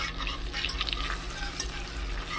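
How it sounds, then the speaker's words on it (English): Sauce whisked lightly in a pot for creamy lemon spinach ricotta ravioli, a soft wet swishing with faint clinks of the whisk against the metal, close and quiet. "So we're going to whisk this together."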